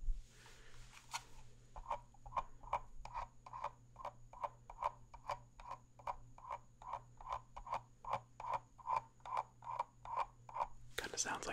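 A fingernail scratches a textured part of a camera in a steady rhythmic series of about twenty short rasping strokes, soft and very close, sounding somewhat like a frog croaking.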